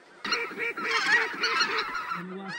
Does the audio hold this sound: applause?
no